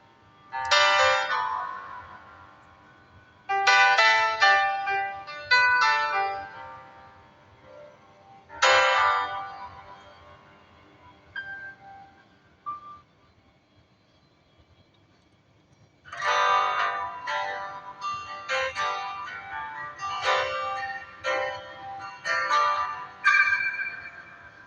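A song comes tinnily from an old phone speaker in bursts of bright, bell-like melodic notes, pausing in quiet gaps before resuming more densely near the end, with no talking over it.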